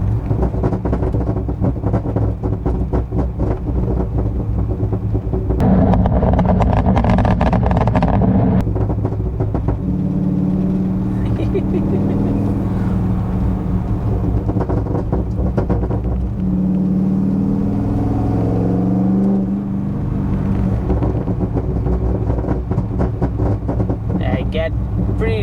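Corvette V8 fitted with headers and an X-pipe, engine and exhaust droning loud and close while downshifting, with revs rising and falling; someone talks over it throughout.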